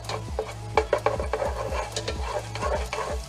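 Spinach sautés with toasting garlic in a pan, with a steady light sizzle under repeated scraping stir strokes at a regular rhythm, close by with no talking.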